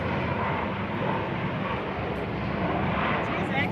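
Near and loud, a propeller plane passes overhead at a park, its steady engine roar filling the whole stretch.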